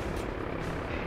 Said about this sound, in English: Take out those choppers!